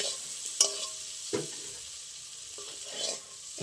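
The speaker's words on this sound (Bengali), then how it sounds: "পেঁয়াজটা বেশি কড়া করে ভাজার দরকার নেই" Onions fry gently in a pan with a faint sizzle, broken by a few soft scraping stirs spaced a second or so apart, quiet and close with no talking.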